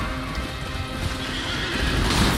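A loud horse whinny from the video game Elden Ring rings out over clattering hooves, close and dense, filling the short stretch without pause.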